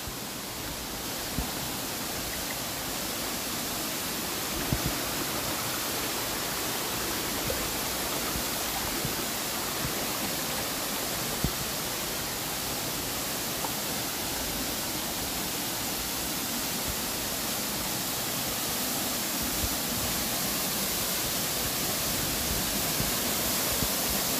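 Pasalan Falls in Zamboanguita, Negros Oriental, pours in a constant, dense roar of falling water, close and unbroken throughout with no voices.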